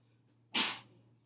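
A single short sneeze bursts out in a quiet classroom, close and sharp against a faint steady hum.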